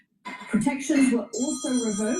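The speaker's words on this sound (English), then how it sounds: "And that is my phone going off." A phone goes off with a steady, high electronic ringtone that starts partway through and continues under a man's speech.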